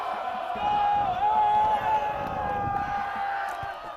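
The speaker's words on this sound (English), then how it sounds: "The Titan crowd's going crazy right now" Titans supporters roar at a boys' high school soccer quarterfinal against Woodberry Forest, a loud, continuous crowd cheer with whoops rising and swelling, a voice faintly audible underneath.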